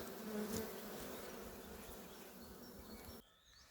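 Honeybees hum and buzz steadily around an open beehive, a dense close drone that fills the clip before dropping abruptly quieter near the end.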